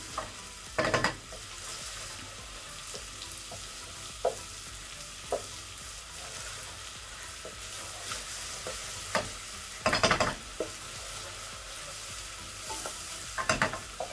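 Mutton trotters (paya) being stirred and fried in a pan for a Lahori paya dish: a steady close sizzle with a few louder scraping stirs of the spoon, and no talk.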